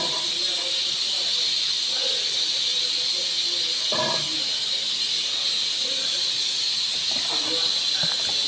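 Steady, loud hissing sizzle of chicken pieces, including chicken breast and chicken skin, frying in hot oil, continuous throughout with occasional brief clatters and a voice speaking over it.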